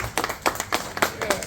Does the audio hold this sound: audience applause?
yes